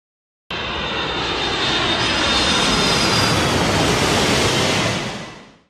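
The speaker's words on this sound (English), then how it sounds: "Airplane." A loud airplane engine roars steadily for several seconds, like a jet passing close overhead, then fades away.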